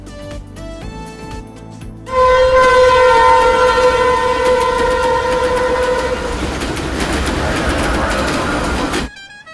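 A train sounds a long, loud horn blast as it passes close by, with heavy rumbling and clattering wagons continuing after the horn stops, then cutting off abruptly.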